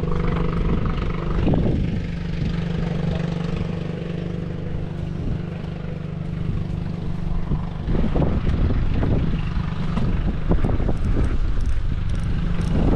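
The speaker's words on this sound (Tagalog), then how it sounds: "lakas ng hangin" Strong gusting wind blasts across an outdoor microphone at Labuan, a continuous heavy roar that surges and buffets in bursts throughout.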